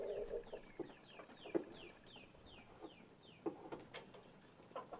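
Several chickens cluck and squawk nearby in repeated short bursts, with the calls bunched together and rising and falling over a quiet background.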